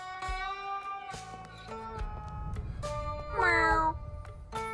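Over steady game music, a voices cat meows in the video game Sushi Ben, with a few short mews and one longer, wavering meow near the end, clear and up front.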